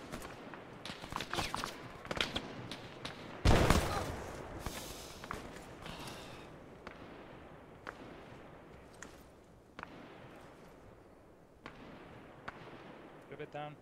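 A grenade bursts amid gunfire in the military video game Arma 3: a sharp, loud blast near the four-second mark, with scattered shots and thuds before and after, and radio voices talking under the action.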